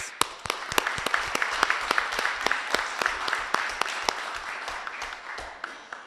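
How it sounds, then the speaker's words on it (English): Applause from a small audience at a school board meeting, with a handful of distinct, loud individual claps over a softer bed of clapping, steady for several seconds. "So round of applause to you guys."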